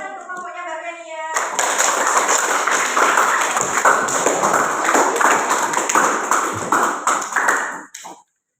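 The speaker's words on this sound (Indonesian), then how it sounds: "Tepuk tangan untuk kelompoknya Mbak Kenia." A group of people in a classroom claps for a presenting group, steady brisk applause that starts after a short tone and stops abruptly.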